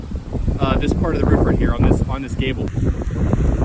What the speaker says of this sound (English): sorry about the wind, it's very windy today.